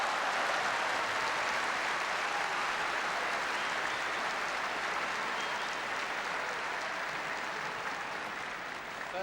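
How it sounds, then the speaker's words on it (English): A crowd at a badminton match between Malaysia and Indonesia applauds, dense sustained clapping from a large audience that holds steady and eases off slightly toward the end. "I think this man, Gunalan, has really got this crowd going now."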